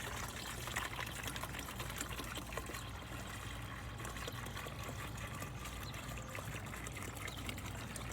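About a gallon of water pours steadily into a jug for a garden blight spray mix, a faint continuous trickling and splashing with no talk.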